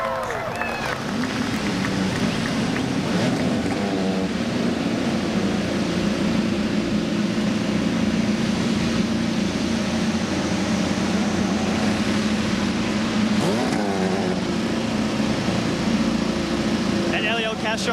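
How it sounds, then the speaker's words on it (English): IndyCar race car engines fire up and rev on the grid at the 2014 Houston street race, a loud, dense, continuous roar that swells and holds with no break. "Gentlemen, let's have some fun and start your engines"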